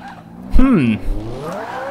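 A 900 HP Renault Clio V8 in the racing game Forza 5 snaps loose and spins, a short swooping tire squeal over engine noise, loud and close, with a voice talking over it.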